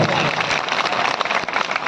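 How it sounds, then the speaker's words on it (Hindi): Crowd applause at a tribal mahapanchayat gathering in Barwani, a dense, steady wash of clapping from a large outdoor audience that fills the whole moment without a break. "इनके लिए जोरदार ताली बजाओ आप लोग।"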